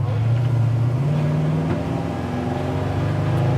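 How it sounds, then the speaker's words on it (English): A numbers-matching big-block 1971 Chevrolet Monte Carlo with dual exhaust rumbles nearby, a deep, steady drone whose pitch lifts slightly as it revs, loud and without talk. "Good sounding dual exhaust."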